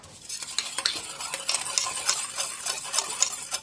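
Dry, crisp rustling and light scraping as bread cubes seasoned with butter, salt and pepper are tossed around in a bowl, irregular and close, with no talking.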